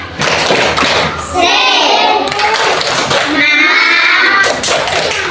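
A school class claps out a rhythmic 'tepuk semangat' chant, loud patterned hand claps mixed with children's and a teacher's voices calling out together.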